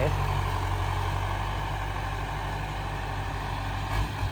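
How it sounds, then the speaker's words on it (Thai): A John Deere 2130 tractor engine idles nearby with a steady low rumble and a constant droning hum, holding an even level throughout with no talk over it. "วันนี้พามาดูรถไถ"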